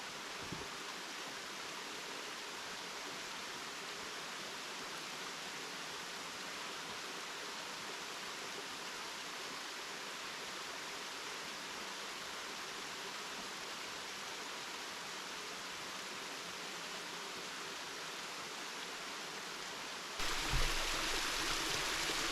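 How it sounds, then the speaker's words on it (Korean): A waterfall with a modest flow pours down a high rock face on Unaksan mountain. The steady, hissing rush of falling water holds unbroken and fairly distant, with a brief knock near the end and no talk. "이게 폭포구나."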